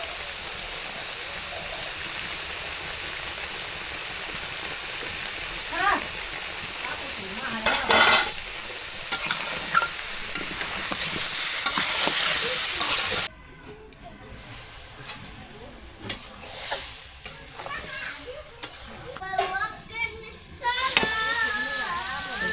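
Dried chilies sizzle and crackle in hot oil while being stirred in a pan for a Bengali village-style dish, with close scraping strokes and bursts of frying that swell and fade over a steady hiss.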